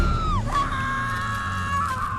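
A woman's piercing scream in a horror film, starting with a falling shriek and then holding a long, loud, sustained cry with crowd-like noise beneath.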